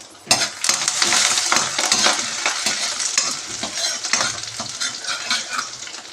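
Crushed garlic and a piece of ginger frying in oil in a pan, a steady close sizzle broken by scraping stirs and light clinks of a spoon against the pan.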